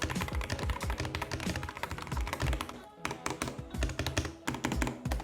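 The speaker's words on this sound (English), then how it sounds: "Here's kind of the sound test of the switches on this keyboard." Fast, continuous clacking of keys on a $35 all-plastic gaming keyboard, close and busy, with a brief pause near the middle before the typing resumes.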